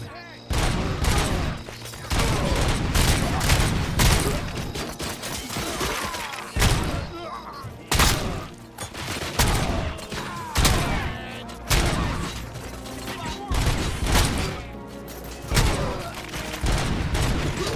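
Gunfire in RoboCop: Rogue City, a dense and loud firefight with repeated bursts of heavy shots, thuds and clatter over nearly twenty seconds, with voices shouting in between.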